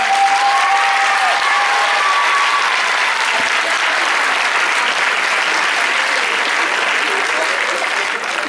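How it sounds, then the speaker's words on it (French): An audience at a parents' preview event applauds a group of children, a dense, sustained wash of clapping that holds steady for several seconds. "Vous pouvez les applaudir très très fort."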